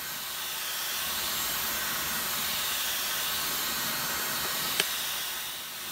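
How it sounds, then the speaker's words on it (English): A high-pressure air blower drying hair, a steady loud broadband hiss running unbroken throughout, with one brief sharp tick near the end. "if you dry your hair with that much air pressure"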